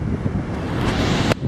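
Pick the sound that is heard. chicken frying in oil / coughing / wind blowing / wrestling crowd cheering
wind blowing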